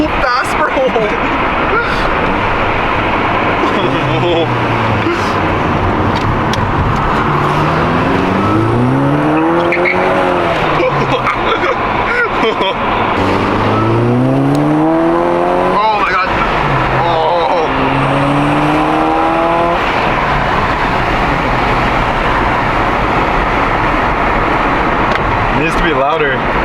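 A tuned VW GTI pulls hard at speed, its engine rising and falling through gears with turbo spool whine, loud and close from inside the car, with occupants talking over it.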